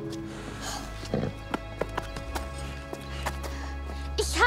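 Horse hooves clip-clopping on a farm, a series of sharp separate knocks spaced unevenly over a low steady rumble, fairly close, with no talk over them.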